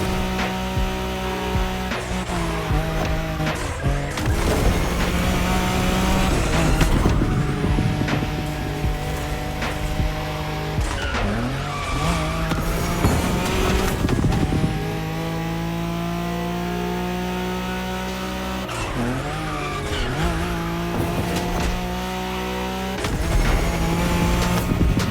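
A Nissan Skyline races in The Crew Motorfest, its engine revving up and down through gear shifts, loud and close, with tire squeal and brief dips between hard acceleration runs.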